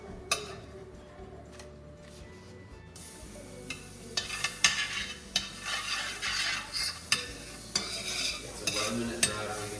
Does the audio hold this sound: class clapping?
no